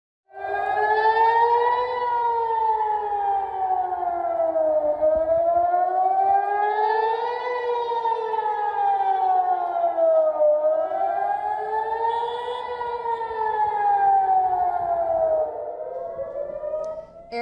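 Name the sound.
air raid sirens sounding in Israel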